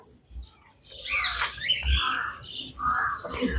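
Cockatiels and African lovebirds in an aviary at a beach resort park give a mix of squawks and chirps at close to mid range, with repeated bursts of calls and faint background voices.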